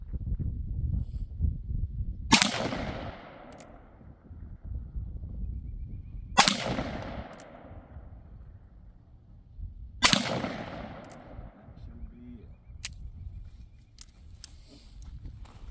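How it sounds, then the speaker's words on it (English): An 1873 single action revolver fires three sharp, loud shots at the range, spaced about four seconds apart, each followed by a brief decaying echo over quiet outdoor background noise. "that was a little bit better shooting there"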